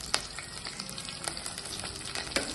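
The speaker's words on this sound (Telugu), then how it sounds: "ఇప్పుడు అవి ఫ్రై చేస్తున్నాం" Chopped onions and green chillies sizzle steadily in hot oil for a mutton curry, with a dense, even crackle and a few sharper spatters and stirring taps close by.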